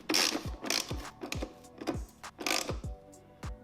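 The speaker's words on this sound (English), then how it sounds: "Grab my wrench." A hand ratchet wrench tightening a bolt on a motorcycle air cleaner during a trim kit install, several quick clicking strokes in an uneven rhythm, close and fairly quiet.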